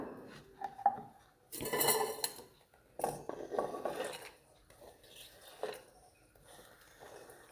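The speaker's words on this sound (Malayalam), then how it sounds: "ഇനി ഇതെല്ലാം കൂടി നമുക്ക് ഒരു ബൗളിലേക്ക് മാറ്റി കൊടുക്കാം" Chopped cabbage, carrot, chili and onion tipped into a bowl, heard as a few separate clattering bursts of utensils scraping and knocking against dishes, close by, with quiet gaps between them.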